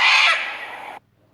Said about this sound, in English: Cockatoo.